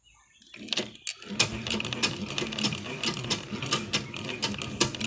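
A century-old rusty treadle sewing machine, lubricated only with light oil, runs with a rapid clattering rhythm of needle strikes and mechanical knocks, close and busy, with no talk over it.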